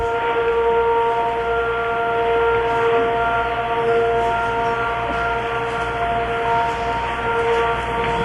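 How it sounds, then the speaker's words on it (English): An air raid siren sounds over Riyadh during the Gulf War, a sustained, steady wailing tone with layered harmonics, heard at moderate distance without any voices. "the sound of air raid sirens tonight"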